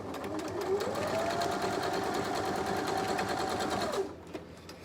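A sewing machine stitches a woven ribbon star quilt block in one steady whirring run of about three seconds, with a rising and falling motor tone, then stops abruptly, close and fairly loud.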